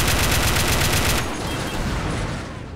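Dense automatic gunfire with overlapping shots from a video game set in the 2003 Iraq War, loud and continuous for about a second before dropping to a lower rumbling din of distant fire.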